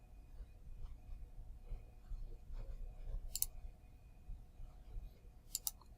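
Computer mouse clicking an OK button: two or three crisp, short clicks near the end over a quiet, low room hum.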